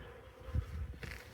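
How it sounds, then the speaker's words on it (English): Honeybees fan their wings at the hive entrance with stingers raised, making a soft steady buzzing hum close by. "these bees are all fanning their wings with their stingers up in the air"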